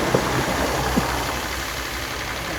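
A Kawasaki PK26 power sprayer engine runs at a steady idle close by, a continuous loud rumbling drone with light knocking and no speech.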